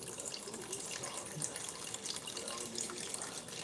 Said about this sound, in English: He's pouring the wine.